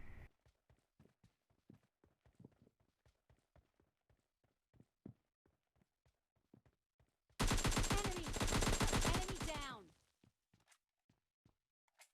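Gunfire in the mobile battle-royale game PUBG Mobile Lite: a string of sharp single shots spaced irregularly, then a dense, loud sustained burst of automatic fire lasting a few seconds before the scattered shots resume.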